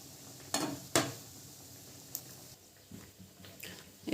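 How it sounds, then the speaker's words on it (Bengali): Fish cooking down in a pan with hot water gives a few sharp, scattered splashing and scraping bursts over a faint, low background, with no voices. "গরম পানি দিয়ে ভালো করে কষিয়ে নিব।"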